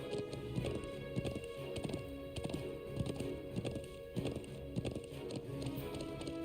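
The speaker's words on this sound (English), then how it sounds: "you can only ride the horse up so far" Horse hooves clip-clop at a steady walking rhythm, close and fairly loud, while riding up toward a watchtower in the highlands in the video game Trails of Cold Steel, with no talk over the footfalls.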